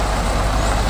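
A loaded truck rumbles close by on a Sumatra highway, a dense, steady, broadband roar of engine and air brake hiss across the full second.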